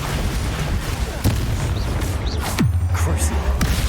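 Spell explosion effects from a Hogwarts Legacy duel, a sharp boom near 1.2 seconds followed by sweeping magical bursts and rumbling impacts around 2.6 and 3.7 seconds, over continuous low combat noise with voices.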